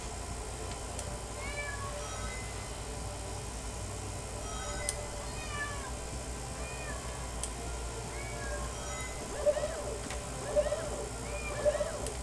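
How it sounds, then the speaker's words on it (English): A cat meows repeatedly, the cries drawn out and rising, over a low steady background hum, growing a little louder toward the end. "Hopefully you guys cannot hear that cat in the background."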